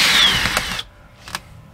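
A power drill whirs briefly while backing screws out of an RV window frame, followed by short mechanical clicks and quiet gaps.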